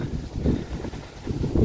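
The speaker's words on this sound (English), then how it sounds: "Really windy, sorry about that, guys." Gusty wind buffets the microphone beside a carp fishing lake, giving loud low rumbling blasts that rise and fall in two surges.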